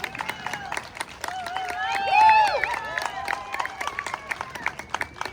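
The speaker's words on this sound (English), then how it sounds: "A big round of applause for yourselves and for everyone that contributed" Audience applause at a mural celebration: dense clapping with cheers that swell to a loud peak midway, while someone's voice carries on over the crowd.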